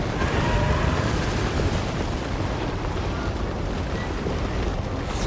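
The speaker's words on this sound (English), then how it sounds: "Look at it burning through my ranks." Fire burns through ranks of troops in a Total War: Warhammer 2 battle between Lizardmen and High Elves, a dense, continuous whooshing roar that stays loud and thins slightly at the very end.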